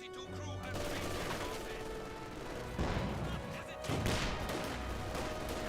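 Battle sounds from Company of Heroes 2, with MG42 machine gun and mortar fire around a mortar pit: dense rattling bursts and heavy crashing impacts layered continuously, with a louder surge partway through.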